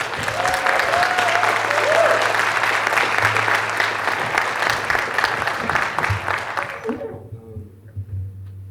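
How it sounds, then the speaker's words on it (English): Audience applause at a juvenile justice reform presentation, a sustained burst of loud clapping from a crowd that holds steady, then fades out and stops near the end, leaving a faint hum. "So why don't y'all give Terrell a round of applause as well."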